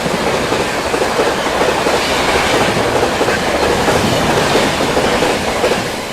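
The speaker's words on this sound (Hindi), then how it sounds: "न्यू दिल्ली डिब्रूगढ़ राजधानी एक्सप्रेस आती हुई फ्लाइट 130 पूरी रफ्तार में" New Delhi–Dibrugarh Rajdhani Express passing at full speed, about 130 km/h, heard from an adjacent train: a loud, dense, continuous roar with rapid wheel clatter from start to finish, no voices.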